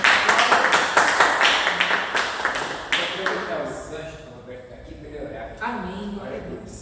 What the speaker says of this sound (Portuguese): E as palmas do louvor ao Senhor.